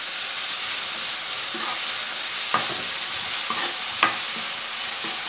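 Finely chopped onions fry in a pan while a soy dish is cooked, a steady close sizzle with a few soft stirring scrapes and knocks, and no one speaking.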